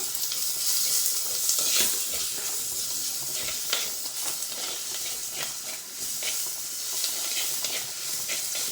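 Shallots with ginger, garlic and chillies sautéing in a pan for a Kerala fish dish, making a steady, close sizzle and hiss with intermittent stirring scrapes throughout.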